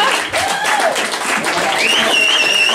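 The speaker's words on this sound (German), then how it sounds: "Applaus nochmal!" A concert audience at Hauptmannsklub applauds in a steady, loud wash of clapping, with cheering voices and whistles rising through it.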